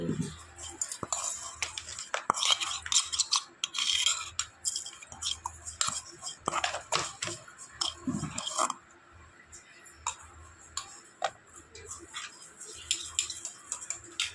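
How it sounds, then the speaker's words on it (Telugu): Two eggs beaten in a bowl in a home kitchen make rapid, irregular clicks and clinks in quick bursts that thin out midway, with some talking in the background. "రెండు గుడ్లు కొట్టుకుంటున్నాం."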